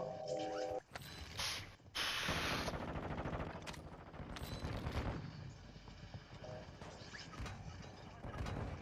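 Rapid bursts of gunfire from a Vondel shooter match in a Resurgence quad game, loud and dense, mixed with mechanical clatter and impacts, with players talking over the shooting throughout.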